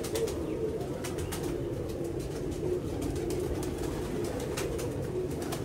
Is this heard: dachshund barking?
no